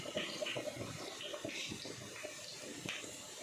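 Snails being scrubbed and rinsed with lemon in a basin of water, giving a steady run of splashing, sloshing and handling noises at close range with no talking.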